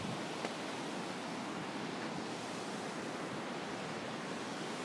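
A waterfall in the Marsyangdi valley of Nepal roars as a constant, dense rush of falling water, loud and steady throughout with no voices.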